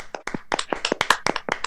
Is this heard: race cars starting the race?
no